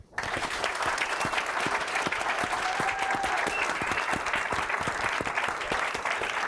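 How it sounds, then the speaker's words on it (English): An audience at the KPMG UK Awards 2023 gives the award finalists a big round of applause. Dense, crisp clapping starts abruptly after a brief pause and stays loud and sustained throughout. "let's give our finalists a big round of applause"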